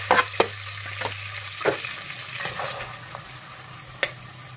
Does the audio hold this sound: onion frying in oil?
yes